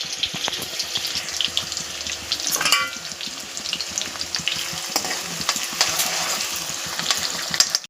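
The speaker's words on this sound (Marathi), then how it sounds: "तेल गरम झाल्यावर आपण त्याच्यात वाटण टाकूया कांदा चांगला परतून घ्या" Onion and spice paste fry in hot oil in a pan, giving a steady close sizzle with occasional stirring and scraping sounds.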